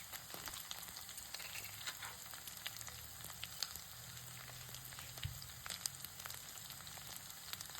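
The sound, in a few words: ginger garlic paste frying in a pan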